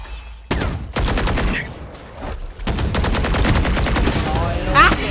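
A big gun fires in the video game Valorant, sounding as loud, rapid bursts of gunshots that repeat through the clip, with short gaps between some of the volleys.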